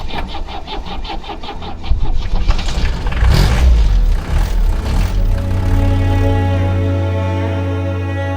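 A 1976 Mercedes-Benz W115 240D automatic's diesel engine rumbles steadily up close while driving, revving briefly mid-clip before settling into a low, even drone with no talking.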